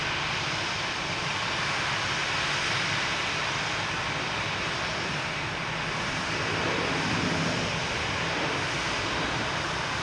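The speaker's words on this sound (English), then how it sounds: "Oh, we got a Delta coming in." A Delta Airbus A321 arriving from MSP descends to land at Boston Logan Airport, its jet roar a steady, broad rush that fills the whole stretch and swells slightly toward the later part.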